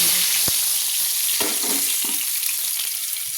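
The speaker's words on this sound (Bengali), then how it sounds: "একটু লাল লাল করে আমি কাতলা মাছের মাথাটা আমি ভেজে নেব।" A catla fish head frying in hot oil, a loud dense sizzle with a few sharp crackles and pops, no talking.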